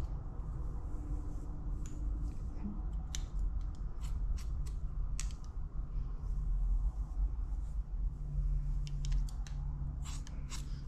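Scissors snip through hair during a haircut and trim, a series of quick, close, crisp cuts scattered over a steady low background hum.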